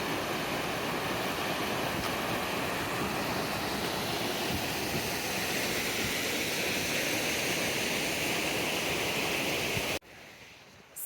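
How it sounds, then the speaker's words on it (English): A river rushes past at a crossing where the bridge has washed out on the Pacific Crest Trail, a steady, dense roar of flowing water that holds for about ten seconds before cutting off abruptly. "So we have our first river crossing."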